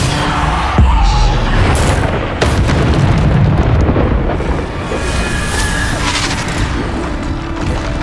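Bombarda explosion spells going off in the video game Hogwarts Legacy, loud booming blasts with sharp onsets over dense, continuous battle noise, several hits spread through the stretch.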